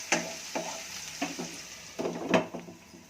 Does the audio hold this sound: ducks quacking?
no